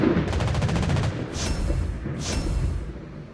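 In the naval game World of Warships Blitz, a French tier 6 cruiser's anti-aircraft guns fire a rapid, loud stuttering burst, followed by two heavier booming blasts that trail off.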